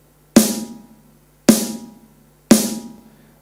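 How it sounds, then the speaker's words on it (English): Snare drum sound triggered on an electronic rhythm pad, three sharp cracking hits spaced about a second apart, each with a snappy attack and a rattling decay, loud and close with no voices. "The next one is the snare drum."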